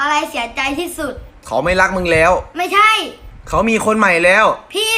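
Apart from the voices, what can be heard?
No everyday noises stand out.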